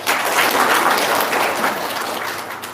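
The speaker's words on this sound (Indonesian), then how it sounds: "Wow, tepuk tangan dong." An audience at a motivational lecture bursts into loud, full applause that holds strong for nearly three seconds. The clapping is dense and crowded, with no speech over it.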